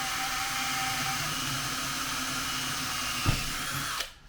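A power drill fitted with a 1/8-inch bit whines steadily and loudly at close range, with a brief thump near the end before the motor winds down and stops.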